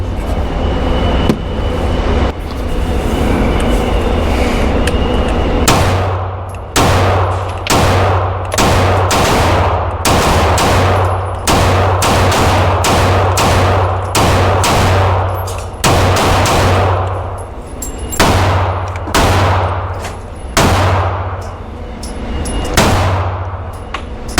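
Smith & Wesson M&P Shield X pistol, a Shield X slide fitted to a Shield Plus carry comp grip, fired in a string of loud, sharp shots after a few seconds of quiet, with short pauses between bursts of rapid reports.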